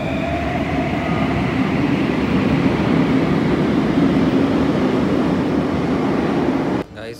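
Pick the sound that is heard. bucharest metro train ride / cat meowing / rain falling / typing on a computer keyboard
bucharest metro train ride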